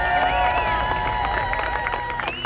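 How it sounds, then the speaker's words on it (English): An audience at the 2018 World Parachuting Championships in Australia claps and cheers, a steady wash of crowd noise that runs without pause while voices carry over it. "Give yourselves a round of applause"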